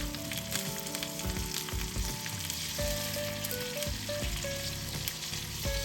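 Salted fish fries in a pan with a loud, close, steady sizzle and crackle, with a few soft thumps and scrapes as the pieces are flipped.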